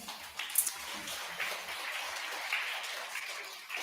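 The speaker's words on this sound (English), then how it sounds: "Round of applause for them." A small crowd at a science fair claps steadily, a dense patter of applause heard at moderate distance without speech.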